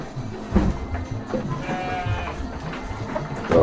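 Garut sheep bleat from inside a pen, several calls rising over a constant barnyard murmur of shuffling and background noise, fairly close with no clear speech.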